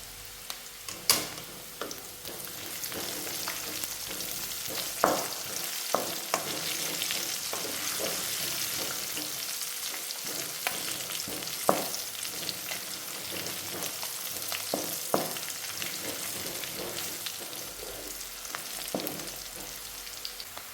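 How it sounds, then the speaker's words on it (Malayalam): Green chillies drop into hot oil with frying ginger and garlic for a soya chunks fry, giving a steady close sizzle with scattered sharp crackles and occasional stirring clicks, no voices. "ഇനി നമുക്കിതിലേക്ക് പച്ചമുളക് ഇട്ട് കൊടുക്കണം."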